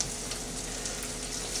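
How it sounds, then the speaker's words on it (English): Four eggs fry in a Lodge 10-inch cast iron pan, giving an even, crackling sizzle that holds close and steady throughout. "since I'm just cooking me 4 eggs, I'm going to use the 10-inch"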